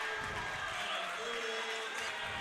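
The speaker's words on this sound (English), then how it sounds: "The crowd is going nuts here at Mike Dutton Gym." Crowd cheering fills a gym during a close varsity girls' high school basketball game late in the fourth quarter, a steady wash of distant roaring voices and applause with no breaks.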